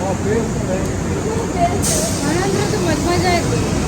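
A train passes close by with a loud, continuous rumbling roar and rhythmic clatter, while a voice talks over it throughout.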